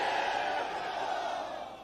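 Crowd at a Pakistan Peoples Party workers convention in Timergara, Lower Dir, chanting slogans in a loud, steady roar that fades slightly at the end.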